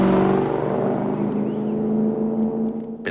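Car engine from a film sequence in I Am Legend, a steady harmonic drone that holds level throughout, then cuts off sharply at the very end.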